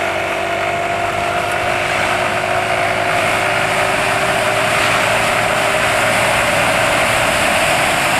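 An engine running an engine oil additive revs steadily and loudly as it accelerates up to 50, a continuous drone with no break or stumble.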